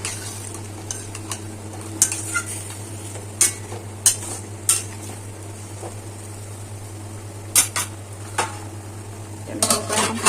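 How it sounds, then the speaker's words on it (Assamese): A ginger, garlic, tomato and onion paste sizzles in a pan over a high gas flame, with a low steady hiss, a constant hum, and intermittent sharp scrapes and clinks of stirring. "এতিয়া মই গেছৰ ফ্লেম হাই কৰিম আৰু এইখিনি যিখিনি পটাত পিচি ৰাখিছিলোঁ আদা নহৰু বিলাহী আৰু পিঁয়াজৰ পেষ্টখিনি ইয়াত দি দিছোঁ"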